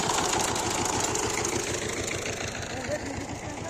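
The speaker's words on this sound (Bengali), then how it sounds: "দেখতে পাচ্ছেন এই পাওয়ার টিলার দিয়ে কিন্তু তারা এই ধানের জমিগুলো চাষ করে থাকেন" A power tiller engine chugs steadily with a fast, even knocking rhythm while working rice paddy fields, loud and close throughout with faint voices in the background.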